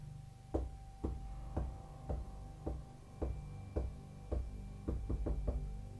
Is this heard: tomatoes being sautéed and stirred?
no